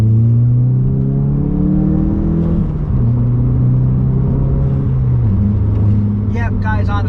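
Volkswagen MK7 GTI with a newly replaced diverter valve, engine note climbing steadily through two rising pulls with a brief gear-change dip, loud and close, with a few sharp whistly bursts near the end.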